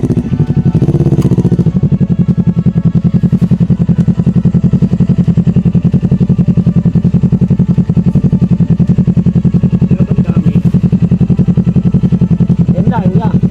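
A motorcycle engine runs close by at a steady, loud idle, a dense low rhythmic chugging that holds unbroken for over thirteen seconds, with a brief clatter near the start and people talking over it.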